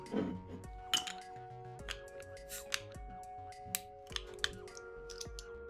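A bottle of Belhaven Scottish Oak Stout is opened, with a sharp clink near the start, then scattered small clicks and taps of glass over a faint, steady tonal background.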